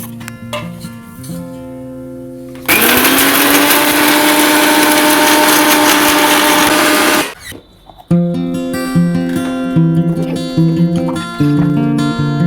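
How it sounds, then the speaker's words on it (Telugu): A mixer grinder whirs loudly at high speed, grinding fried tomatoes and onions into a paste. It starts abruptly, runs steadily for about five seconds, then cuts off, with background music before and after. "ఇప్పుడు మనం వేయించుకునేవన్నీ మిక్సీ పట్టుకోవాలి."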